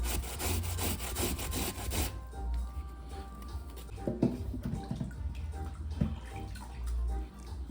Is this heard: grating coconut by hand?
yes